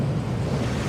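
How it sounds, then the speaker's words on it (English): Steady broadband rush of a waterfall in Hogwarts Legacy, a constant low roar of falling water with no talk over it. "That waterfall washes away all enchantments."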